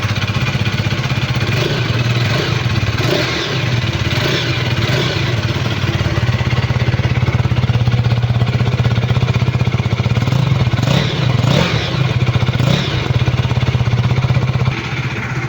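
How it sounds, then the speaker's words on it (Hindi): Close, loud idle from a 2025 KTM 250 Adventure 250cc motorcycle, a throbbing single-cylinder beat broken by several quick throttle blips that rise and fall back to idle. "मैं आपको गाड़ी का एग्जॉस्ट नोट सुनाता हूँ and let's fire this 250cc beast"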